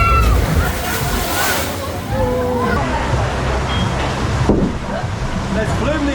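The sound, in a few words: water splashing at the landing of a log flume ride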